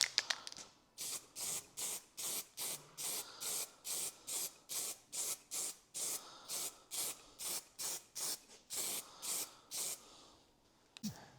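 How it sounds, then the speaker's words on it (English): Repeated short bursts of Stone Guard Black aerosol spray paint on a rusty Harley-Davidson Sportster, about twenty even hissing pulses in steady rhythm, close and fairly loud with brief gaps between them. "let's spray a bit of Stone Guard Black on top of it"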